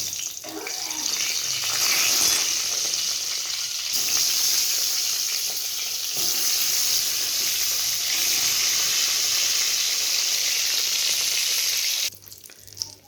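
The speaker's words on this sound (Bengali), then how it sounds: "এবার বেগুনগুলো ভেজে নেব" Slices of brinjal (eggplant) sizzle in hot oil in a pan. The frying hiss is steady and close, with brief shifts as the pieces are stirred, and then it ends suddenly.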